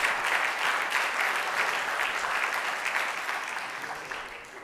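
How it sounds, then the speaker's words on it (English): A dense round of audience applause at a manufacturing summit keynote, loud and continuous at the start and tapering slightly as the clapping winds down. "Big round of applause."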